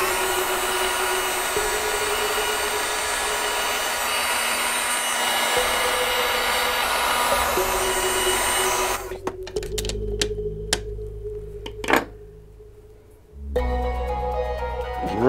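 An electric heat gun warms a part for an electric-vehicle conversion, a steady loud blowing whine for about nine seconds, then cutting off to clanks and handling noises before starting up again.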